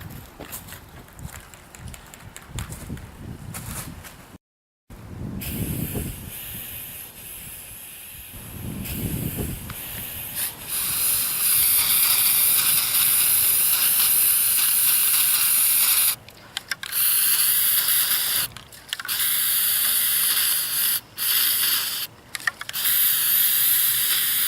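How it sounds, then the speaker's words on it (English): Flex Seal Clear rubber coating sprayed from an aerosol can onto the bottom of a footprint cast, heard as a loud, steady hiss in long bursts with brief gaps, up close. "we're going in with this Flex Seal Clear, and it basically turns into a hard rubber."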